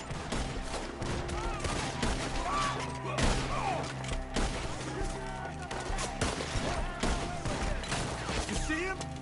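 Gunfire in Red Dead Redemption II during a shootout with enemies up in the trees, with dense, rapid bursts of shots crackling continuously over a busy mix, under shouted voices.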